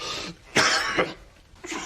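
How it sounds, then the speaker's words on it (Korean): A few short, sharp coughs close by, the loudest in the middle, with quiet pauses between them. "누가 기침 소리를 내었는가 말이야?"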